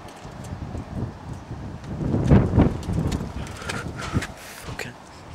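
Strong cold wind blowing outdoors on an English evening, buffeting the microphone with rough low rumbling gusts that swell and fade throughout, with a voice faintly present underneath.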